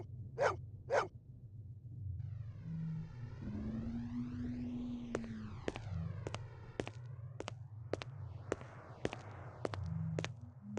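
A dog in the Blade Runner video game gives two sharp, close barks, followed by sweeping electronic tones and a steady series of crisp ticking clicks in a quiet room.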